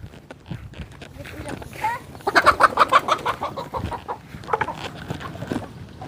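Chickens cluck near a farm pen in a burst of rapid, loud clucks midway, with scattered clucks before and after and people talking over them.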